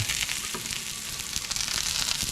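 Chicken pieces and mushrooms frying in a Teflon pan, a dense steady sizzle with light crackling pops throughout, close and alone with no talk.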